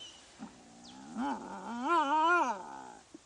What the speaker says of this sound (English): Instead, they howl and yowl.